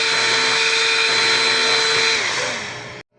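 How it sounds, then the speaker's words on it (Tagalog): A cordless wireless vacuum cleaner with weak suction runs at close range, a loud steady motor whine with a high tonal hum that dips slightly in pitch before the motor cuts off abruptly after three seconds. "So, meron tayong ayusin ngayon na wireless vacuum cleaner."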